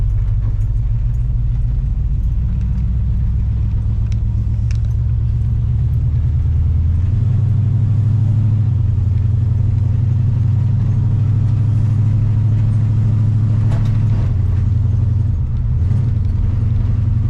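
A big-block 454 V8 in a C10 pickup truck rumbles steadily while driving, a deep low engine drone that swells louder midway as it pulls, with no talking over it.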